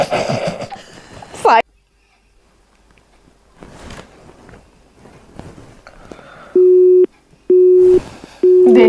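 A phone call sounds a steady electronic tone in three long, evenly spaced beeps toward the end, after a stretch of voices and household noise nearby.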